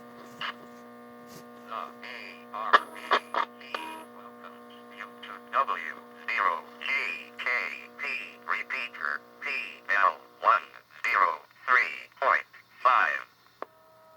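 A Heathkit HW-17 2-meter transceiver on solid-state receive picks up a repeater, with bursts of voice traffic over a steady mains hum and buzz, moderately loud and continuous.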